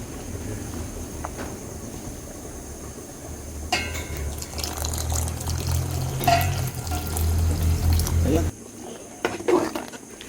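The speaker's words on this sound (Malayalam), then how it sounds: "നമുക്ക് തീ കുറച്ച് വെച്ചതിന് ശേഷം ഒന്നാം പാല് ഒഴിച്ചു കൊടുക്കാം" Coconut milk pours steadily into a pot of porridge on low heat for several seconds, a continuous splashing gurgle that stops abruptly, followed by a few light clinks.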